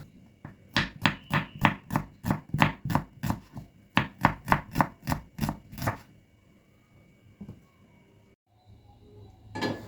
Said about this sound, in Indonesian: di sini aku akan iris tipis bawang merah